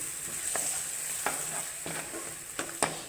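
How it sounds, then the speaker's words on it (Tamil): A spatula scrapes and stirs egg stir-fry with salt in a hot frying pan, several soft scraping strokes over a steady sizzle, close and alone. "உப்பு போட்டு ஒரு கிளறு கிளறிடணும்"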